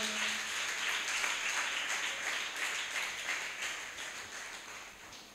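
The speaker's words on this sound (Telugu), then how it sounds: "గట్టిగా చప్పట్లు కొట్టి దేవుని నామాన్ని కనపరుద్దాం." Congregation in a church service applauding loudly and steadily, a dense wash of many hands clapping together for several seconds, slowly easing off toward the end with no talk over it.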